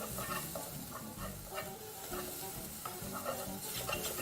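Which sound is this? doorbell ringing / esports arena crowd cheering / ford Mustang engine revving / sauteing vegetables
sauteing vegetables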